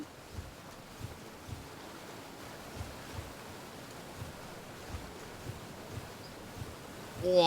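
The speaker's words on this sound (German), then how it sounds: "Ich bin jetzt beim Wasserfall." A waterfall in the fantasy video game Swords n' Magic and Stuff gives a steady, even rush of water, with faint regular soft thumps beneath it and no voices.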